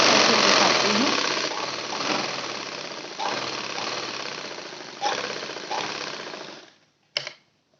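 Domestic sewing machine stitching a belt onto the hem of a salwar, running loud and steady with a dense mechanical whir, slowing and pausing several times before stopping, followed by a brief clack near the end.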